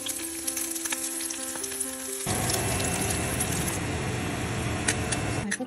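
Squid tentacles frying in a pan, a loud, dense sizzle bursting in after a quieter opening with faint clinks, then holding steady and close with occasional crackles.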